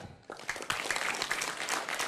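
A group at a home meeting breaks into applause: dense, steady clapping from many hands that starts abruptly and holds at an even level for about two seconds, with no voices on top.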